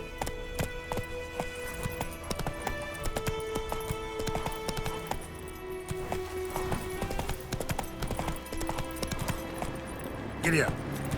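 Hooves of a galloping horse in The Witcher 3 pound steadily under game music, with a short neigh near the end.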